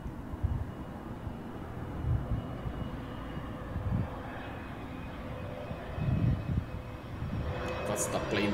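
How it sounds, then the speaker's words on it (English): A plane carrying Raphael Varane lands in Manchester, its engine giving a steady, distant aircraft drone while someone talks over it. "That's the plane that brought him to Manchester."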